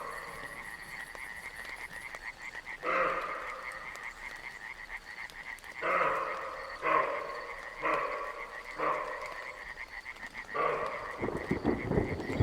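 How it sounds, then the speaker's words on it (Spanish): A dense chorus of toads calls in pulsing trilled bursts that swell and fade repeatedly, steady and moderately distant with no voices. "Y de fondo los coros pulsantes de los sapos de la ermita de San Antón."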